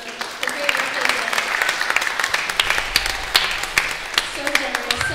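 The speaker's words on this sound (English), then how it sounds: "So give them a round of applause for the great work they did" A church congregation at Sunday worship gives a sustained round of applause with crisp individual claps throughout, while talk carries on over the clapping.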